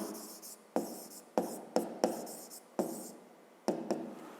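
Pen writing a fifth-grade math solution by hand on paper, quiet scratchy strokes in short bursts separated by brief pauses, close and alone.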